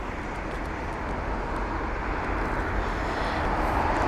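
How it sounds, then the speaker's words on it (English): A Lufthansa A321 taxis toward runway 27 left at Heathrow, its engines a steady, broad low roar at some distance, unchanging throughout. "Lufthansa 321 CEO on its way on over to runway 27 left for its departure"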